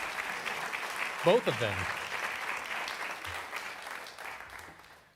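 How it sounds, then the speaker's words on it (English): An audience at a book launch at the Schomburg Center claps, a moderate, sustained rattle of applause that slowly fades out, with a voice speaking briefly over it. "go ahead and clap for that"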